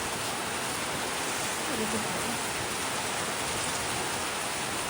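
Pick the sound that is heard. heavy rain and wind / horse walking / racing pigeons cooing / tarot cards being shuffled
heavy rain and wind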